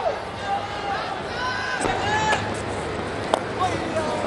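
A steady crowd hubbub from spectators at a T20 cricket match between Zimbabwe and Sri Lanka, holding a constant level with faint scattered calls and one brief sharp pop near the end.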